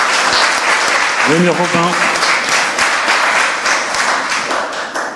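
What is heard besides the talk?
audience applause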